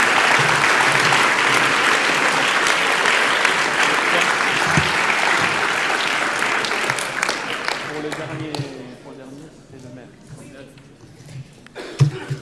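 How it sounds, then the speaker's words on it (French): Loud, sustained applause from a crowd at a sports trophy award ceremony, steady for about eight seconds before fading into scattered claps and murmuring voices. "Un tonnerre d'applaudissements pour Alain et pour Christian."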